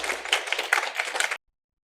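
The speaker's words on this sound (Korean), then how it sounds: "우리 다시 한번 큰 박수로 환영하겠습니다" A church congregation at a Sunday Christmas Eve service gives a round of welcoming applause, a brief burst of dense clapping that cuts off abruptly into silence.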